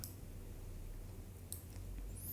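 A few faint, brief clicks from a computer keyboard's delete key being tapped while editing, spaced unevenly over a low steady hum, with no voices.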